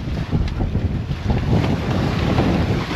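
Waves slapping against a sailboat at sea in strong wind, constant rushing wind buffeting the microphone with irregular splashes of water against the hull.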